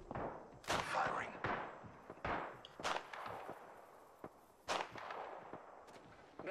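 Scattered video game gunshots ring out as separate sharp cracks, some close and loud, others farther off, with faint talk in between.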